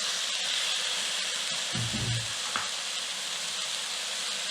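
Eggplant and zucchini sautéing in a pan for a Yemeni saltah, a steady close sizzle with a brief louder burst of frying partway through.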